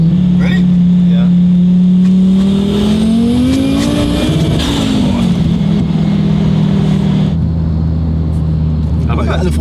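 An Audi A4 five-cylinder with a big turbocharger accelerates hard on the street, a loud, close engine drone climbing in pitch, dipping at a gear change, then pulling on at a steady, lower note.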